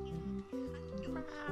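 Pumpkin, a cat in the Six Cats Under game, gives a few drawn-out, tonal meows in quick succession, clear and close, with pitch sliding between calls.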